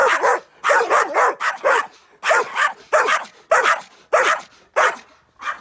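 A dog barks over and over in a street in Negreira, Spain, loud repeated barks in quick bursts of two or three with short gaps between them, close by and alone with no talk.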